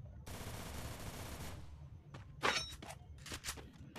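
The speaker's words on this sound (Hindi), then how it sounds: "यहाँ पे बंदा दिखता है मैं इस पर फायरिंग करता हूँ पर ये बच जाता है" Automatic gunfire from the Free Fire battle-royale game sprays in a fast, continuous burst, followed by several separate sharper shots and impacts at a moderate level.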